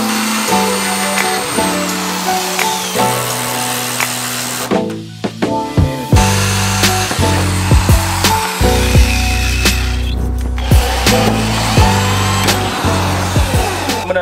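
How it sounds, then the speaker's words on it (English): A power drill whines loudly and close, drilling holes in a fender flare on a Nissan 350Z, in repeated bursts that rise and fall in pitch as it bites in, with short pauses between holes. "I'm gonna go ahead and start drilling the holes"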